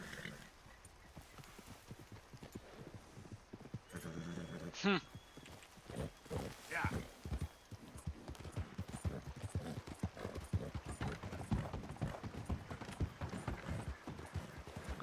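Horse hooves clip-clopping in Red Dead Redemption 2, a steady run of hoofbeats with mechanical clicks and brief vocal bursts, continuous and moderately loud over a busy game soundscape.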